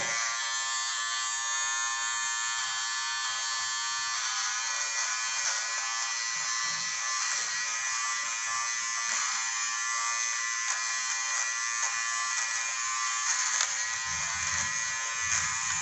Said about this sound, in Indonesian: Selanjutnya tinggal kita nyalakan dan kita potong bagian bulu-bulu hidung di sini